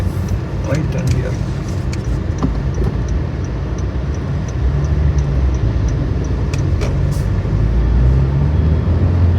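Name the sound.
car driving, turning at a junction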